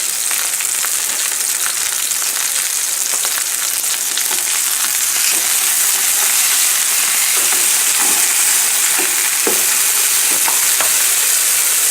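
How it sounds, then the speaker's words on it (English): Tomatoes fry over a high flame, grease spattering and sizzling in a steady loud hiss with scattered sharp pops, continuous throughout with no talking. "grease splattering all over the place"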